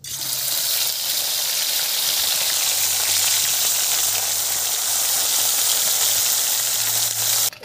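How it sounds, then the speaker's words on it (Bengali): Small mourala fish sizzle and fry in hot oil in a pan, a loud, steady crackling hiss that continues throughout and cuts off abruptly at the end. "তেল গরম হয়ে গেছে, মাছগুলো দিয়ে দিচ্ছি।"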